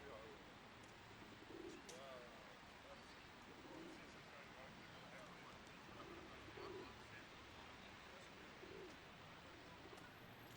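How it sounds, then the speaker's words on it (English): Pigeons coo in repeated low, soft bursts amid the steady hum of a busy London West End street, with crowd chatter and distant traffic running underneath throughout. "Then you've got lots of pigeons."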